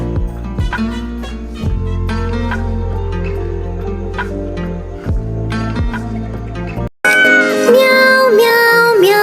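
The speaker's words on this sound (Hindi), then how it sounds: "बिल्ली करती म्याऊ" A cat's meow rings out as a drawn-out, wavering tonal cry, following a bouncy children's rhyme tune with dripping, plinking effects and a brief drop to silence.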